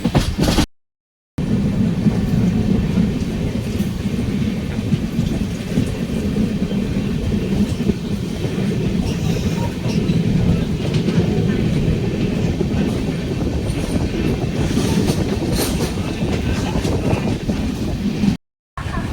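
A train rolls along the Konkan railway through coastal Karnataka near Udupi, its steady loud rumble and rhythmic clatter continuous and close, with wind buffeting, briefly cutting out near the start and end.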